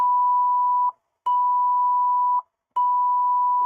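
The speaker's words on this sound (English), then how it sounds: "So I don't know if those beeps got registered through the noise gate at all." Three steady electronic beeps at one pitch, each about a second long, separated by short silent gaps in an even rhythm, clean and close with nothing behind them.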